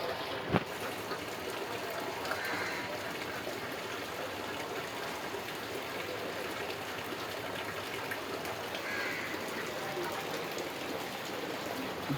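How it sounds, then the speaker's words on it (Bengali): Steady rain falls during a flood-season downpour, a continuous even wash of patter and trickle that stays at one level throughout, with a single faint knock near the start. "বৃষ্টির আওয়াজটা কিন্তু আমার অনেক ভালো লাগে"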